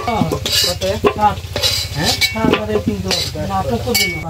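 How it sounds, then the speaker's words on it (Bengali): Fried potatoes being lifted out of a wok with a metal utensil, giving clinks and scrapes against the pan over a steady sizzle of hot oil, with music playing throughout. "আলু ভাজাগুলো হয়ে গেছে, এবার তুলে নেব।"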